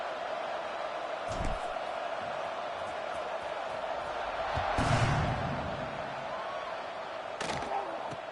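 A stadium crowd in a football video game keeps up a steady roar with slight swells, running under a commentator talking over the kickoff.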